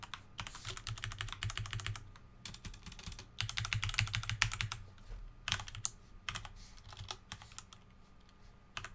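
Quick, steady typing on a computer keyboard while code is edited, with bursts of clattering keys and brief pauses, close and fairly quiet with no talking.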